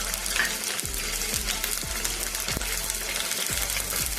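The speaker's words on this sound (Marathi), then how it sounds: "कढईमध्ये तेल घालून घेतलं आहे आधी मसाला परतोय" Steady oily sizzle of spices and garlic frying in oil in a wok, continuous and close, with a few soft low thumps as something is stirred.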